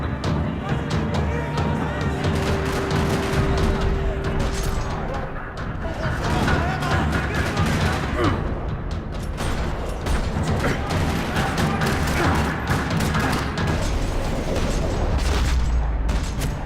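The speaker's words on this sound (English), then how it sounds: "Another parking lot rattling with gunfire." Sustained gunfire rattles through a parking lot in Max Payne 3, dense overlapping shots and crashes forming a loud continuous barrage that runs the whole stretch with no pause.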